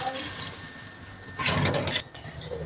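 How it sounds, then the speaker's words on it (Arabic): Water is added to a pot of fried meat and okra for an Iraqi okra stew, a short splashing pour that swells briefly and then cuts off. It is close and moderately loud. "بعد ما انحمست اللحم والبانية نخلي شوية مي"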